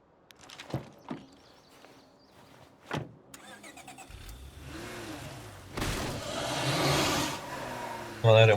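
A car in State of Decay 2 gives a few sharp clunks and thuds, then its engine starts and revs up into a steady, growing drive sound that ends in a louder burst.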